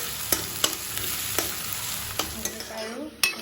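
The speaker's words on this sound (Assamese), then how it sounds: "এইখিনি কালাৰটো চেঞ্জ হোৱালৈকে ভালদৰে ভাজি ল'ম" Two large onions fry and are stirred in a pan over a medium-high gas flame: a steady sizzle runs throughout, punctuated by several sharp spatula scrapes and knocks, close and clear.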